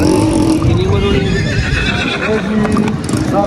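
A young horse, about seven to eight months old, neighs loudly up close amid clip-clopping hooves, with people talking over the sound.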